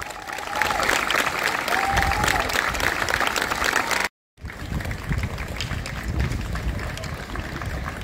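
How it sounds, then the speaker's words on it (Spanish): Sustained crowd applause at a 125th anniversary ceremony for the Avellaneda volunteer fire brigade, steady and dense with scattered voices, briefly cutting out to silence midway before resuming at similar loudness. "El aplauso para ellos"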